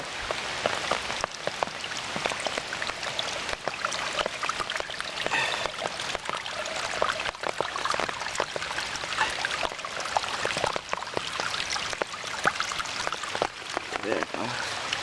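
Pond water rushes out after a clog is cleared, a steady nearby splashing, trickling flow at a moderate level throughout.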